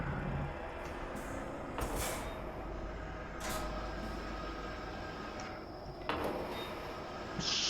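A diesel truck in the Euro Truck Simulator 2 video game, idling with a steady low engine drone and several sharp hissing bursts of air brake release scattered across the clip, with no talking.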